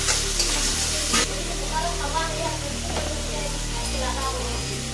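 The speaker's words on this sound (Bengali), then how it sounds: "দই, ধনের গুঁড়ো, লঙ্কা গুঁড়ো, এটাকে কষিয়ে নিই" Yogurt, coriander powder and chili powder fry in a pan for an egg curry masala, giving a steady close sizzle with faint stirring scrapes, a broad hiss alongside a low continuous hum.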